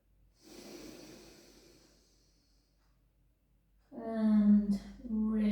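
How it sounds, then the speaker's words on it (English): Deep, slow breaths during a gentle pilates class, a long soft exhale followed by a pause and then louder, closer breathing with a voiced, hummed tone. "Really practice those deep, deep breaths."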